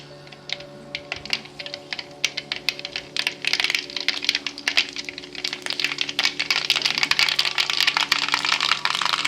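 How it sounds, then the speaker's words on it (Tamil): Mustard seeds splutter and pop in hot oil in a pan, a dense run of sharp crackles and snaps that grows busier and louder over time, close by, with no talking. "கடுகு பொரிஞ்சிருச்சு"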